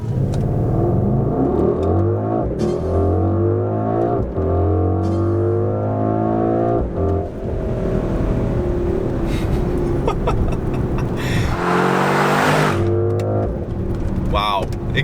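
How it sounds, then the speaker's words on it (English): A 2021 Mercedes GLE 63 S AMG Coupe accelerates hard from a stop in automatic mode, its loud engine climbing through rising gear sweeps with brief shift dips, and the exhaust opens up into a louder, rougher roar near the end. "Wow, exhaust opens right up."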